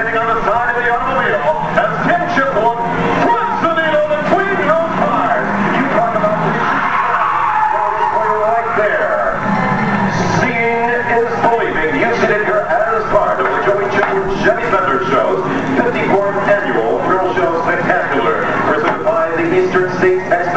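Stunt cars at an auto thrill show at the Eastern States Exposition grandstand perform precision driving, with continuous engine and tire noise under a loud announcer and crowd throughout.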